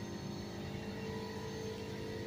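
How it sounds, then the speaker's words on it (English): An air compressor running steadily in a workshop during leaf blower maintenance, a faint continuous mechanical drone with no pauses or talk. "as you can hear the compressor in the background running"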